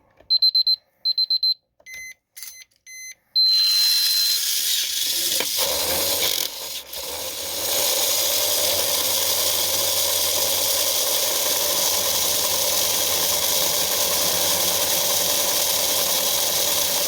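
A Tamiya Mini 4WD car spins up on a Tamiya speed checker after a few short beeps, then settles into a loud, steady high-pitched whirring and rasping drone that holds evenly to the end.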